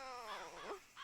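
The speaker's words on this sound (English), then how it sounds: "I think it was a bird." Short bird calls in a Wild West roleplay game, with a few harsh, cawing, crow-like cries over about a second, fairly close and with nobody speaking.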